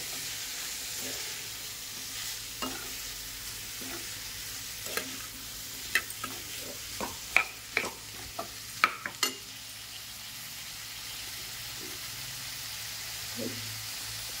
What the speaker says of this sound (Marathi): थोडीशी कोथिंबीर पण टाकूया आणि मंद आचेवर छान येईल अशी आपण आता वाफवूयात